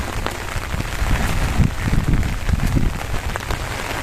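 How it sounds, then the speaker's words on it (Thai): Heavy rain pours steadily onto surfaces in the open, a dense, continuous hiss with scattered heavier drops and splashes, loud and close, with no voices. "ฝนตกแรงมากน้ำไหล เต็มไปหมดเลยค่ะ"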